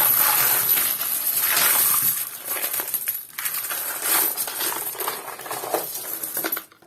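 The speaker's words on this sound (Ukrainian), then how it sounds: "Отже, що ж, будемо рахувати наші монети. Висипаємо з наших контейнерів." Coins poured out of containers onto a surface, a loud continuous metallic jingle and clatter of many coins that keeps going for several seconds before tapering off.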